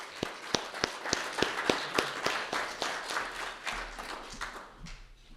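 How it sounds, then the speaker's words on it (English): Seminar audience applauding an estate planning presenter, a burst of crisp hand claps, fairly near, that gradually thins out and fades over several seconds. "Let's give her a big round of applause."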